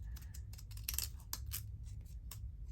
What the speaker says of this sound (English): I call them the crunchy scissors because they make a crunchy sound.